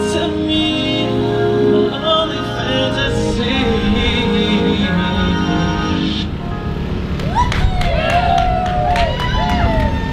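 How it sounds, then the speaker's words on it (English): Crowd cheering and clapping at a live outdoor block party after a song, a loud and sustained wash of whoops and applause with shouting voices rising toward the end. "Give another round of applause for yourselves, guys."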